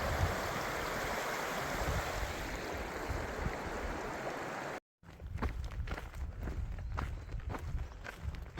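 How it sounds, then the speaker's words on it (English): Feet drag and splash through a flowing stream on a long-distance hike on the Continental Divide Trail, with a steady rush of water at first, then a brief cut to closer, rhythmic sloshing steps. "You got to keep your feet in the water, drag them."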